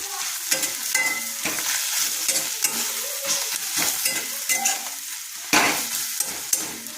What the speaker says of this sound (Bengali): আর বাকি মশলাগুলো দিয়ে এখন একটু কষিয়ে নেব।